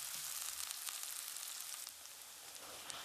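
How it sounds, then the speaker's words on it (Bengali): Chopped onions dropped into hot oil, a continuous soft sizzle and crackle heard close up and fairly quiet, with no voices. "তেলটা গরম হয়ে গেছে, তাই আমি কুচি করা পেঁয়াজগুলো দিয়ে দেব।"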